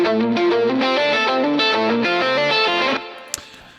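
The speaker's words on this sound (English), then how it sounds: "So I've got this guitar lead happening, and then these two harmonies. Stereo harmony" A distorted lead guitar line doubled by two stereo harmony guitars plays a fast run of stepped notes, thick with effects, before cutting off near the end and leaving a faint tail with one brief click.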